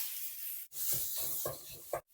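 Minced pork sizzles steadily in a hot pan, with scraping stir strokes roughly every half second.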